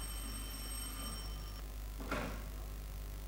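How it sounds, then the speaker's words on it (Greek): A telephone rings indoors in a Greek film scene, a steady tonal bell-like ring holding for about a second and a half, followed by a brief clatter, with no one speaking. "χτυπά το τηλέφωνο"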